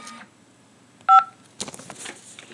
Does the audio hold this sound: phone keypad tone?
yes